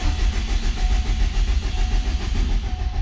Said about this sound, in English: we're gonna crank it over just to verify we have oil pressure.